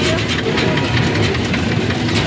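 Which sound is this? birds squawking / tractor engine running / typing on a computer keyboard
tractor engine running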